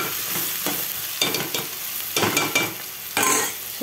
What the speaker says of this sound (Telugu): కట్ట మెంతాకు వేసిన ఇలా కలుపుకోవాలి.